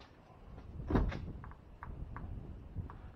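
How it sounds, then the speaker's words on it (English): A car door on a General Motors vehicle with a 1.5 turbo engine is opened, with one sharp mechanical latch clunk nearby, followed by faint scattered clicks and rustling. "Watch it go off when I open the door."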